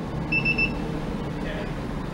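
A Ranger LS43B wheel balancer gives a single short electronic beep over a low background hum, followed by a faint second tone.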